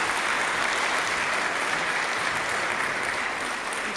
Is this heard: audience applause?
yes